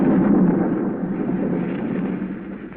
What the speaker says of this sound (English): A storm rages wildly over the countryside.